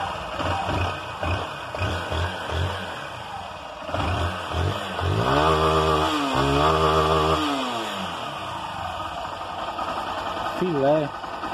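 Honda Titan 160 motorcycle with a brand-new engine, running close up: a steady idle that revs up and falls back a couple of times, with a throttle blip near the end.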